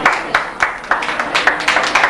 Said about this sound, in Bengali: পার্থর জন্য একটি সজোরে করতালি।